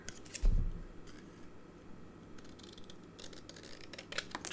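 Paper card trimmed with scissors, a few crisp snips up close with a louder cut near the start and lighter clicks later, in an otherwise quiet room.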